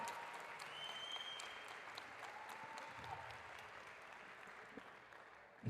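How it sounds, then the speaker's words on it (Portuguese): Church congregation clapping in a steady, fairly distant wash of applause at a sermon, faint and continuous with a few sharper claps standing out. "Dá uma salva de palmas para Jesus aí"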